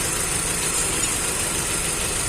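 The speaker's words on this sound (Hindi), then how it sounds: "तो इंजन मिस फायर है" Hyundai i20 petrol engine idling with a misfire from a shorted ignition coil, heard as a steady, loud, close mechanical drone with a faint uneven knock and no talking.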